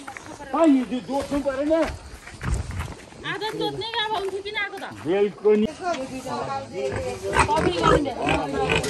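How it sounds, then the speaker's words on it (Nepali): Pig grunts at a farm pen, intermittent and fairly close, mostly under steady talk from people nearby. "सुँगुर चाहिँ यहीँ रहेछ है"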